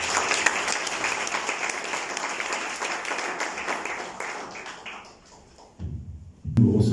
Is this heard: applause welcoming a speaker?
yes